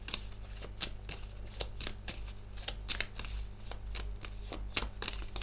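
Playing cards are shuffled and flipped over, giving a steady series of crisp, close flicks and snaps over a low background hum.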